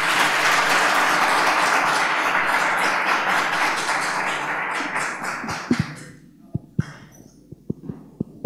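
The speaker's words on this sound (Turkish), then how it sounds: "alkışlarınıza sahneye davet ediyorum." Large conference hall audience applauds a team invited onto the stage, dense loud clapping that fades out over the last few seconds, leaving a handful of scattered claps.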